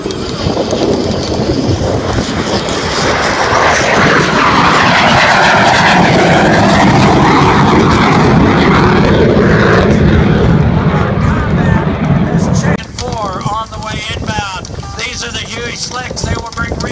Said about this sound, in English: a MiG-21, the most elaborate of the third generation fighters,